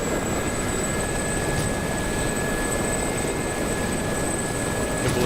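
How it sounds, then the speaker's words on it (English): A badly damaged Black Shark attack helicopter in a PvP combat flight game gives a steady, loud rotor and engine drone that stays constant throughout, with no talk. "There's not much of a helicopter left there, Duddy."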